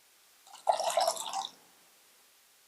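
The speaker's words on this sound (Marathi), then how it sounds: "आपण पाणी ओतायचं" Water is poured into leftover ghee residue in a pot: one short splashing gush lasting under a second, close and clear against near silence.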